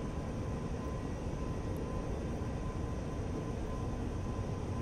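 Jet engine of an F-86F Sabre in the DCS flight simulator, with the throttle adjusted during a landing approach: a steady, loud, broadband roar that holds unchanged for the whole stretch, with no voices.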